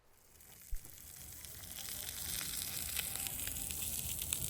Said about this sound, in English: They served us lamb cutlets that we cooked on a smoking hot volcanic rock.